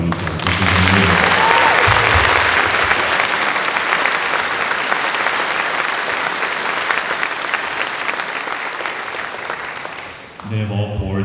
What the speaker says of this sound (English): please, a huge round of applause for these guys